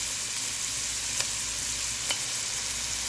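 Jarred minced garlic frying in a pan with cabbage and bacon gives off a steady, even sizzle with no talking, marked by two faint ticks or stirs.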